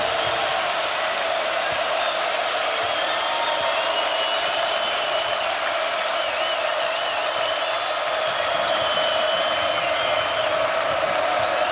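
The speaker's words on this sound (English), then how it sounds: "Here comes the crowd." A basketball arena crowd roars steadily at full volume during a college game between Iowa State and Houston, a dense sustained wall of cheering and applause with no pauses.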